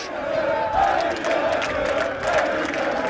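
Fenerbahçe football fans at a team gathering chant a player's name in unison, a loud rhythmic crowd chant repeating in steady waves.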